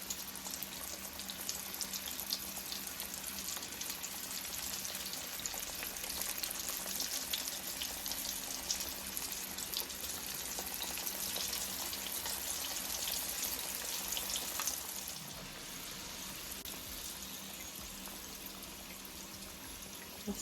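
Butterflied shrimp frying in hot oil in a pot: a steady, dense sizzle and crackle, continuous and close, easing slightly in intensity partway through.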